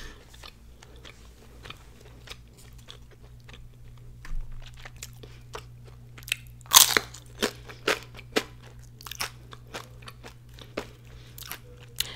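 Crunchy birria tacos and nachos with cheese are chewed close to the microphone, giving loud crisp bites followed by a steady run of crackling crunches over a faint low hum.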